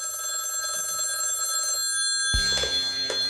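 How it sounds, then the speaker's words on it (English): A telephone rings in an evening home setting with a bright, repeating bell tone that stops partway through, followed by a sharper knock or handling sound. "That evening, she received a phone call."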